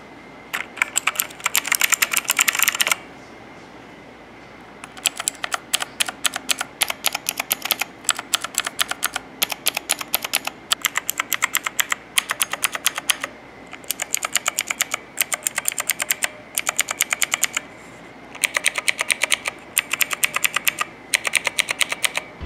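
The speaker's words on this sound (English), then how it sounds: "there's definitely like a sound difference, but this is blue switches" Rapid, clicky mechanical keyboard typing on blue switches with white PBT keycaps, in uneven bursts with short pauses, each keystroke crisp and sharp, close up and alone.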